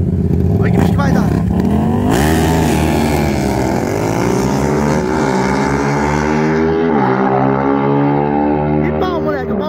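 Two motorcycles rev hard together at high RPM, engines climbing and falling in pitch through gear changes, loud and close, with excited Portuguese talk mixed underneath.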